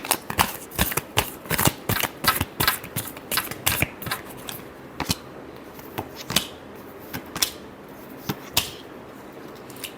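Tarot cards being shuffled by hand, a rapid run of crisp riffling flicks close up, dense at first and thinning to sparse taps, with no talk.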